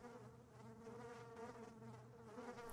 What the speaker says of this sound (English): I can hear flies buzzing around something.